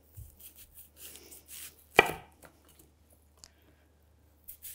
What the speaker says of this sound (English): I like to cut into kind of thick rounds, like 1/2 inch or so